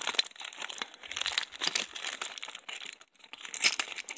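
Close, continuous crinkling and tearing of packaging as a Beyblade prize box is unwrapped, with irregular crackly bursts and a brief pause near the end.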